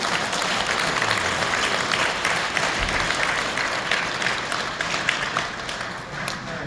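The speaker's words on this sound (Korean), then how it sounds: "다시 한번 큰 박수 부탁드리겠습니다" Sustained applause from an audience at a humanities lecture held by a regional association, dense clapping filling the whole stretch at a steady, fairly loud level with no talk over it.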